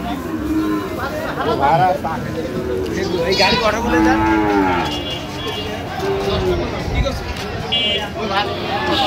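Sahiwal cattle at a Bangladeshi livestock market moo repeatedly in loud, drawn-out calls, overlapping one another against steady crowd chatter and talking nearby.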